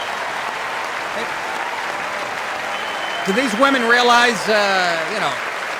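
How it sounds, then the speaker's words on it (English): Applause rolls through the chamber of Congress during a presidential address, a broad, steady clatter of many hands that carries on underneath a voice speaking over it toward the end. "Look at the condescending clap by Pelosi."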